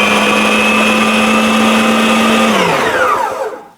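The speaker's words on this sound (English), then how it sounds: "that pulse feature on this mixer is so cool" A stand mixer on its pulse setting churns cookie dough for monster cookies, a loud steady motor whine that holds, then drops in pitch and spins down to silence at the end.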